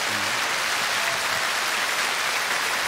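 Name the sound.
audience applause on TV singing contest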